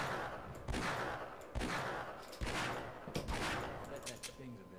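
Rapid bursts of gunfire in the Half-Life video game, a dense fusillade of overlapping shots that continue throughout with game noise, no voice heard.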